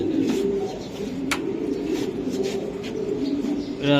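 Pigeons coo in low, repeated throaty calls at a loft of racing and fancy breeds, with faint background noise and occasional sharp clicks around them.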